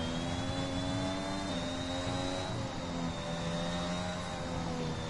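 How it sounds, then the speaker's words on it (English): Racing car engine in a PlayStation racing game at a Mexico circuit, droning steadily with harmonic tones that dip as the driver lifts off the throttle, loud and continuous with no talk. "You can hear the engine, he's lifting off"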